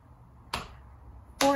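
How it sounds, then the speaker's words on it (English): Two sharp hand claps during a body percussion exercise, a softer one followed about a second later by a louder, brighter one, close and distinct over a quiet background. "get ready for the clap."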